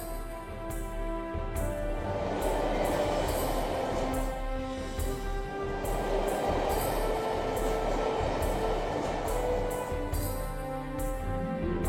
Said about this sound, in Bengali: ওয়াও, কি দারুণ মেট্রো ট্রেন, হাওয়ায় চলে।